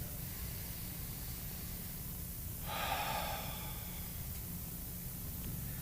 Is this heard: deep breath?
yes